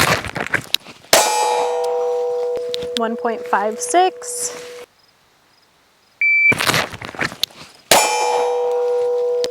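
Sharp metallic clangs of gunshots striking a steel target ring out during a concealed carry draw drill. Several loud, close impacts come in separate bursts, each with a ringing decay, while a person speaks briefly between them.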